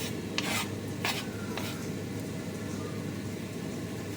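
Chopped carrots are stirred around in a cooking pot, giving a soft, continuous scraping rustle with a few sharper clinks near the start, all over a steady low kitchen hum.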